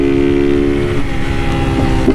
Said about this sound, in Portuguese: Pipoca no escapamento da 160.